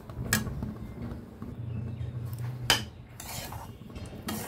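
Grated coconut being fried and stirred with semolina in a pan, soft scraping and rubbing of the spoon against the pan with a couple of sharp clinks, faint and close.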